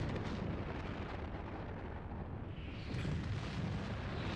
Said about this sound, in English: First cannon limit break? Holy cow!